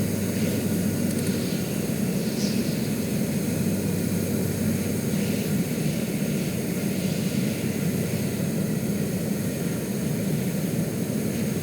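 Steady, continuous drone of aircraft engines in the Stormworks game, a broad constant roar with no break and no voices.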